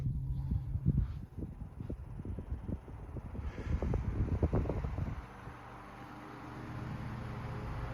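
A vintage Emerson Imperial Swan electric fan runs with a low steady whir and breathy airflow, plus irregular bumps and thumps as the head oscillates, close-miked, settling to a quieter hum near the end.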